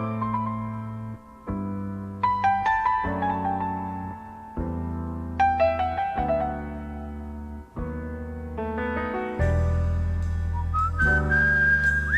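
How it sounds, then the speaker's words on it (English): Clear, strong whistling carries a melody over sustained low instrumental chords, note after note in a slow, deliberate phrase. "I wish I could whistle that strong"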